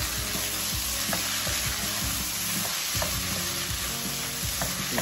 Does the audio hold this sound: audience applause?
no